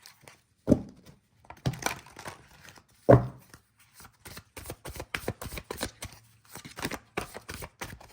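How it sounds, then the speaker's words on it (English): Crisp riffling bursts of cards being shuffled, two sharp loud riffles followed by a run of quicker, lighter card flicks, close up with no talking. "Let's shuffle one more time."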